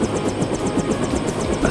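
A helicopter's steady rotor chop, a continuous rhythmic thumping with an engine drone beneath it, close and loud with no voices over it.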